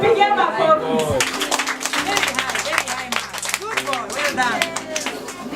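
Audience at a primary school graduation in Kibera, Nairobi, Kenya clapping together, a dense patter of hands under a speaking voice and crowd chatter.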